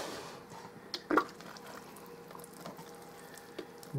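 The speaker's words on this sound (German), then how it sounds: "dann gießen wir das Ganze jetzt gut an." Freshly sown herbs in indoor pots being watered, a soft trickle and pour of water onto soil with a brief louder splash near the start, close and quiet with no voices.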